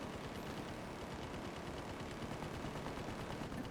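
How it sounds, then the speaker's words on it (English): Continuous loud gunfire from other players in an online shooter game, a dense, steady barrage of rapid shots with no pauses and no talk over it. "It would be nice if those guys would stop shooting."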